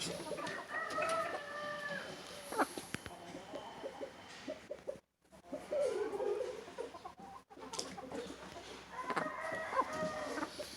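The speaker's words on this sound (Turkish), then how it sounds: "Bu yavruma vurduğum tavuklardan bir tanesi." Laying hens and breeding chickens cluck steadily at close range, with a rooster crowing clearly near the start and again near the end, and a brief quiet gap midway.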